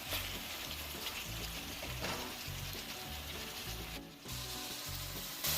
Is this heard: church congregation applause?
no